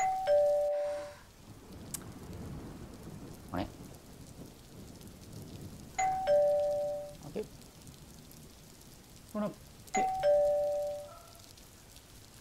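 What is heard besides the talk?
doorbell ringing repeatedly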